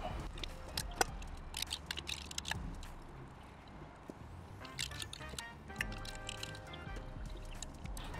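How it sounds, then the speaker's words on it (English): A brush sweeps dust off a Brompton folding bicycle, with soft scratchy strokes, light clicks and small rattles of the frame, faint and close in a quiet room. "I'll brush this off first, all the dust, quite a lot of it"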